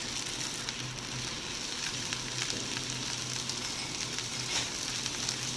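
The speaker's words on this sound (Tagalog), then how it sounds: "Sigurado ka, piniprito to." Pork adobo fries in a pan with a steady, crackling sizzle and occasional sharper pops, moderately quiet and continuous throughout.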